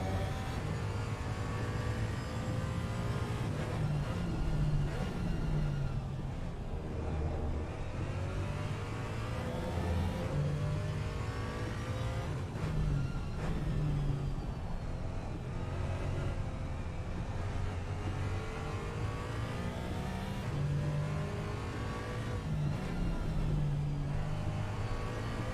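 Race car engines from Aston Martin and rival GT cars in Assetto Corsa Competizione drone and rise steadily through the whole stretch, with rising and falling pitch sweeps as the cars accelerate and shift, loud and close with no talk.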